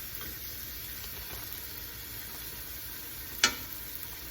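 Food sizzles softly and steadily in a pan, a quiet continuous hiss with one sharp clatter near the end.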